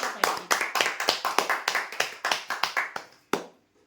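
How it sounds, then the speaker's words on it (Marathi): Applause for a prize draw winner at a dressing-table giveaway event: a brisk run of sharp, close hand claps in a fairly steady rhythm, thinning out and stopping with one last clap. "जोरदार टाळ्या होत्या"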